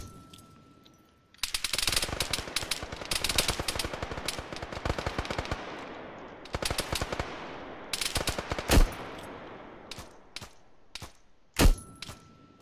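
Bursts of automatic gunfire from a modded Arma 3 tactical operation: long rapid strings of loud, close shots, then shorter bursts and a few single heavy cracks.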